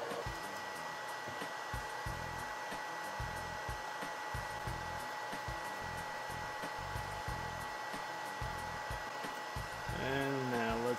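An air scrubber fan for a 3D printer runs with carbon and HEPA filters fitted, producing a constant close whooshing hum whose pitch wavers briefly near the end.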